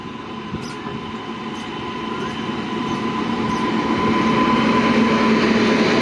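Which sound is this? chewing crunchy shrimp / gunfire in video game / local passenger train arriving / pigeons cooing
local passenger train arriving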